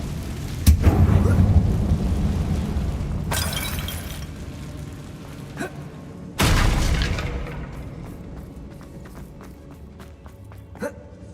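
A Confringo spell fired inside a mine in Hogwarts Legacy, with a sharp crack and a booming, shattering burst that decays slowly, followed by a second heavy blast and scattered debris clicks.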